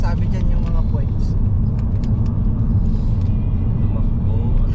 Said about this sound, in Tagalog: Tumakbo ang sasakyan.